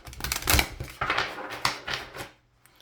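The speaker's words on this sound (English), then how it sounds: "I just started grabbing tarot and shuffling" A deck of tarot cards is shuffled by hand in a card reading, giving quick bursts of riffling, slapping card noise in several close, uneven rushes that fade into quiet at the end.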